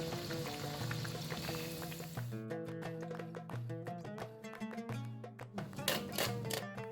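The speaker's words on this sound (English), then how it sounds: "gradually place in the falafels as shown. Keep stirring occasionally, and in about 4 to 5 minutes, the falafels should be fried and ready" Falafels frying in hot oil, a steady close sizzle heard beneath continuous music throughout.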